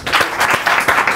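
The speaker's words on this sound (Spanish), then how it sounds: "un fuerte aplauso para Alex Fidalgo" A live studio audience claps for the interviewer Alex Fidalgo in a short, loud burst. It is a dense wash of many hands, close and continuous, with no voices on top.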